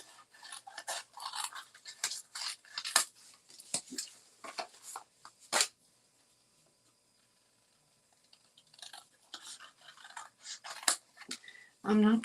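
Scissors snip through paper to cut out hearts in quick, close, irregular clicks. Talk runs alongside, a silent pause falls midway, then the cutting resumes.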